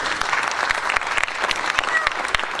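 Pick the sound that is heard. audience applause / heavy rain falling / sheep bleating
audience applause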